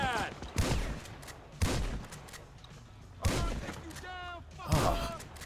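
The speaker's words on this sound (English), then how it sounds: "Ah, shotguns from afar, not good." Shotgun blasts in the video game Grand Theft Auto V, several sharp booming shots spaced a second or so apart amid gunfight noise, with brief vocal sounds between them.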